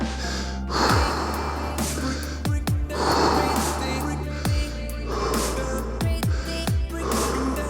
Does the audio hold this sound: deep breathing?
yes